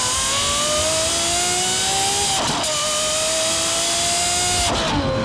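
A straight-piped V12 in a Lamborghini Aventador SVJ revs loud and close. The high engine tone climbs, and two short breaks come as the revs shift.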